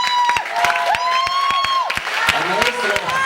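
A theatre audience in Ostia claps in a steady, even rhythm, each clap sharp and distinct, while a sustained tonal voice or melody carries over it.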